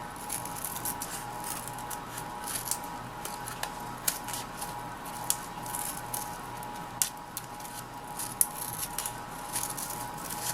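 Scissors snipping roughly around a rosette blossom, faint soft cuts and light rustles repeating irregularly in a quiet room.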